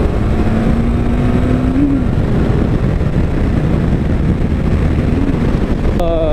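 A Honda CB1100 cafe racer motorcycle accelerates hard from a stop to 60 on a freeway on-ramp, its engine note climbing through the gears under steady, heavy wind roar close to the rider.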